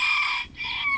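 Java chickens cluck and call close by in a coop in short, insistent bursts, two calls with a brief break between them.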